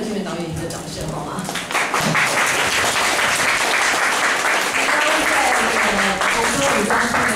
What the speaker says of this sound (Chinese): 我们是不是再给柯建铭导演一个掌声好吗